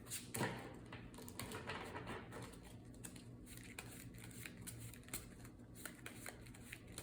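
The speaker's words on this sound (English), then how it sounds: "and then we're gonna shuffle up our deck." A deck of cards is shuffled during a Spider-Man versus Ronan card game, with soft continuous riffling and ticking at a quiet, close level, marked by a few sharper snaps.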